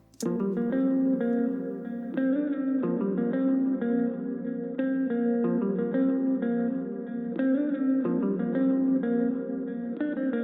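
A sustained synth top-line melody plays alone, drenched in spacious Valhalla VintageVerb hall reverb with echoing delay repeats trailing each note, steady and moderately loud throughout.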